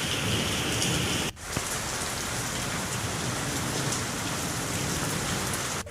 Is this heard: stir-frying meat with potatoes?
no